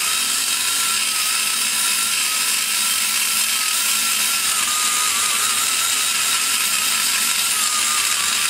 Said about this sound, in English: Then you just go back and forth motion, pulling and grinding.